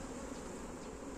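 Honeybees swarm at an opened hive, a steady, soft, dense buzzing drone that holds evenly throughout with no voices.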